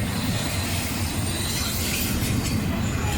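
An intermodal freight train hauled by two NS locomotives passes a railroad crossing, giving a steady, loud, continuous rumble of rolling cars with no talk over it.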